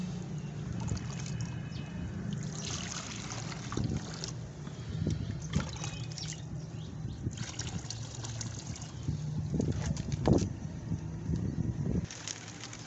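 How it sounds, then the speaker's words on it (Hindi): Water is poured out for pigeons at a pigeon cage, a soft continuous trickle and splash with faint rustling and wind-like noise in the background, steady and low in level throughout. "यहाँ पर पानी डाल देता हूँ मैं जी इनको।"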